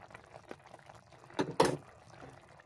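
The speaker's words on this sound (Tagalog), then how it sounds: "Ayan, ilagay natin ang ating green peas." Green peas tipped into a pot of simmering mechado stew, a brief soft pouring rattle and wet plop near the end, close by over quiet background bubbling.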